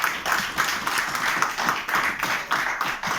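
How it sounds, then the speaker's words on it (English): Clapping from an audience at a cycling riders' gathering honoring a woman rider, a steady patter of many hands, moderately near, with no voices over it. "I would like to put a huge round of applause for her"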